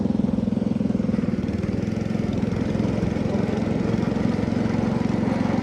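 An antique John Deere 112 garden tractor runs steadily in third gear, its engine thrumming with a constant rapid pulse and a noisy, rough mechanical drone, close and loud throughout.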